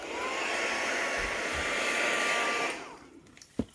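A hair dryer blows steadily up close, drying a gel print, a loud continuous whir that cuts off near the end, followed by a few faint handling knocks.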